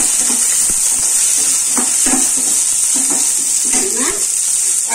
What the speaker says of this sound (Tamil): நல்லா வெங்காயம் வதக்கிட்டு நம்ம கருவேப்பிலையும் கொத்தமல்லியும் சேர்த்துக்கலாம்.